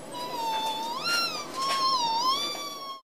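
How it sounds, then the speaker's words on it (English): A European starling gives one drawn-out, wavering whistled call with rich overtones, rising and falling for about three seconds, close and alone. "My bird is European starling."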